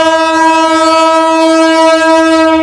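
A train arriving at Lohagara railway station, on the line between Cox's Bazar and Chattogram, sounds a loud, sustained, steady horn that drowns everything else for the whole stretch.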